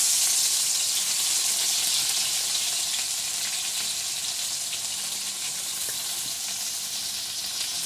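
Crushed green chili thecha dropped into hot oil in a pan, giving a continuous, fairly loud, close hissing sizzle that stays even throughout, with no voices.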